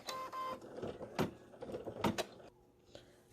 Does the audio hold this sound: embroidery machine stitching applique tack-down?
yes